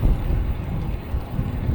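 Rough, low wind buffeting a microphone while riding a Ride1Up LMTD V2 electric bike, constant and fairly loud throughout, louder than the motor, with no voice.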